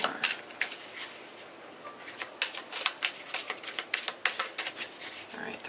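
Tarot cards are shuffled in a steady series of crisp riffling bursts, close and moderately loud, with no one talking.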